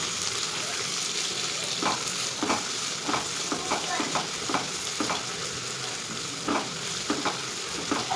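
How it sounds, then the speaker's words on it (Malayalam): Sliced onions with a pinch of salt sauté in a pan for a home-style chicken curry, giving a steady broadband sizzle. Intermittent scraping stirs sound through it, close and continuous, with no voices. "ഇനി സവാളയൊക്കെ നമുക്ക് നല്ലപോലെ വഴറ്റി കൊടുക്കണം."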